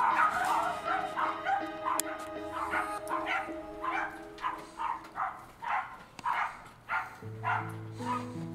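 A dog barks and yips repeatedly in a steady series from a played video, mid-distance and moderately loud over a faint musical bed.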